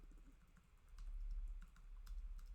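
Typing on a computer keyboard during a JavaScript coding bootcamp lecture gives faint, scattered key clicks over a low room hum, with no one speaking.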